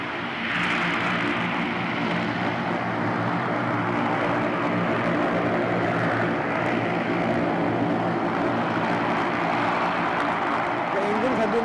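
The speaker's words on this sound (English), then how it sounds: "You notice that the engines on both sides, and there is one on the back side which will come later, are switched on" Engines of a Skyship 600 airship running, a steady loud droning hum with a broad rushing roar, continuous and even throughout with no break.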